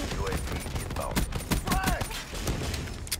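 Pistol shots in Black Ops 3 ring out in a quick irregular string among other game sounds, with a voice speaking faintly under the action.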